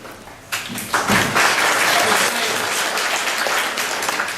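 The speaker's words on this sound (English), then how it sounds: "If we could hold the applause to a minimum" Audience applause at a congressional district debate, swelling to a full, steady clapping from a sizable crowd after a candidate finishes speaking and holding strong to the end.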